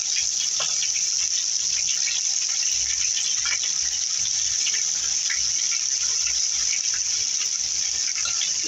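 Beef tripe frying in a pan, a dense, steady sizzle that holds at an even level throughout, close by and with no voices.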